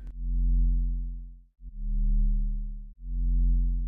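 FM bass tone from a Serum synthesizer patch, oscillator tuned up two semitones: three sustained low buzzy synth notes with a short click at the start, each held about a second and a half with brief gaps between.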